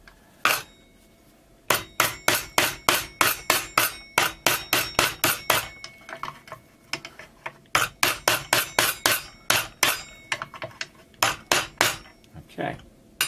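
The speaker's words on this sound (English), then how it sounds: "I'm going to use a hammer for that." A hammer strikes metal in quick bursts of sharp, ringing blows, two long runs of rapid evenly spaced hits separated by a short pause, close and loud with no talking.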